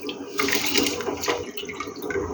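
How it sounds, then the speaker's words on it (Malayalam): Washed rice tipped into a pot of boiling water for fried rice, a continuous watery splashing and bubbling close by, steady throughout with a brief louder splash partway. "അരി നമ്മൾ കഴുകിയത് വെള്ളത്തിലോട്ട് ഇടുവാണ്"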